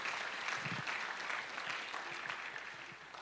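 A church conference congregation applauds, a full, steady burst of many hands clapping that carries for a few seconds before gradually thinning, with faint voices mixed in.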